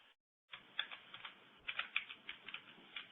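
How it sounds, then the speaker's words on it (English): Someone typing on a computer keyboard in the background of an online talk, a quick irregular run of faint clicking keystrokes after a brief pause, with no voices. "Somebody's typing in the background."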